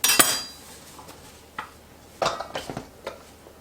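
A knife slices carrots into quarter-inch medallions on a cutting board, a few separate sharp chops and knocks spaced out, close by, against a quiet background.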